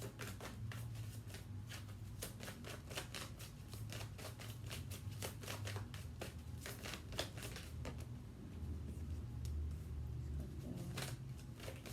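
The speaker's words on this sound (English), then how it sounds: "Let me pull 2 cards for you." Tarot cards are shuffled and drawn by hand: a steady run of crisp, papery riffles and flicks, close and moderately quiet, over a low background hum with no talking.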